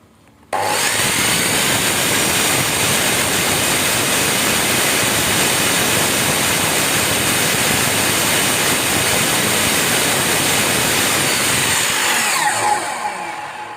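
An NRT Pro MS 1055 HD 10-inch miter saw spins up sharply and then whines steadily at no load, a loud, even motor roar that holds for about twelve seconds before the switch is released and it begins winding down.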